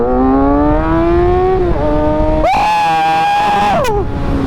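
A motorcycle pulling a power wheelie: a loud, close engine revs steadily upward, drops briefly at a gear change, then screams higher before falling off, with wind rush throughout.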